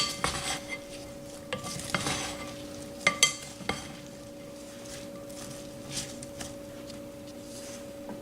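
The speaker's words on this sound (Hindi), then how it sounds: "ये हॉट सॉस, इन तमाम चीज़ों को मिक्स कर लें।" A spoon mixing a chickpea salad with cucumber and hot sauce in a bowl: steady wet stirring with a few light clinks, close and soft, with no voices.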